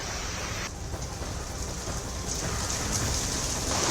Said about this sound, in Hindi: झमाझम बारिश के चलते देश की राजधानी दिल्ली को राहत ज़रूर मिली है